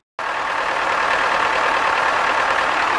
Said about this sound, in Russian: ну вот я завел косилку, вроде бы все продул, прочистил